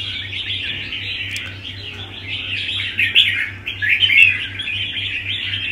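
A songbird kept as a show bird calls repeatedly in bright, fluttering chirps and trills, loud and close, over a steady low mechanical hum.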